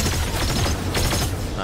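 Gunfire in Fortnite rattles continuously through a short burst of combat noise, dense and loud with a voice talking over it.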